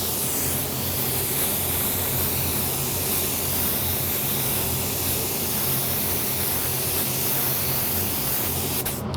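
A spray gun lays down a second coat of Createx AutoBorne Sealer, a steady, loud, continuous hiss of atomized paint running unbroken for the whole stretch with no voices.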